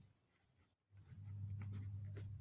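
Chalk or marker taps and scratches faintly on a classroom board as math is written, soft and close, with short strokes after a brief pause and a low hum beneath.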